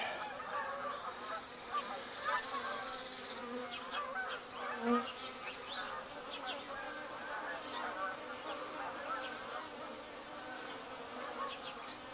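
Honey bees buzz continuously at close range during a spring mite treatment of the hive, a dense humming drone that rises and falls slightly, with faint voices now and then in the background.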